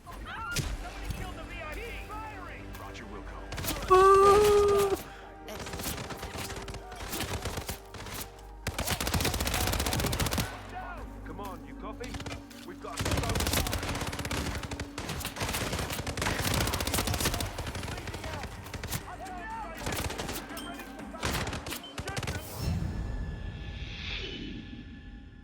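Gunfire in the stealth game Hitman, rapid bursts of shots and loud impacts scattered across the scene, with in-game voices shouting over the shooting.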